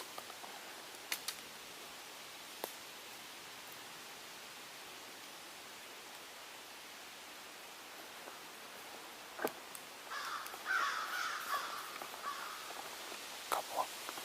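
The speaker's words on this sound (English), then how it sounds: "I heard an American crow just now" American crows cawing outdoors during a summer nature walk, several faint distant caws scattered through quiet ambient hiss, with a closer burst of rustling and calls near the end.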